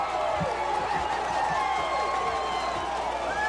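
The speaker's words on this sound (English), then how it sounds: "Let the crowd noise tell you." A football stadium crowd at a 1991 high school state championship game roars after a touchdown, a sustained loud cheer with whistles, distant and unbroken throughout.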